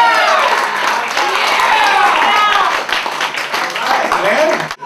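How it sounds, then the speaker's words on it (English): A lively crowd at an emcee-hosted show applauds loudly with dense clapping and excited vocal cheering mixed in, staying strong for about four seconds before tapering off. "I wanna hear some applause"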